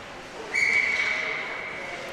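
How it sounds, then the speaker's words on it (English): A referee's whistle sounds once during an ice hockey game, a high-school developmental match between Sachem Braves and West Islip Gold. It is a sustained shrill tone of under a second over arena crowd noise. "And he'll hold on for the whistle."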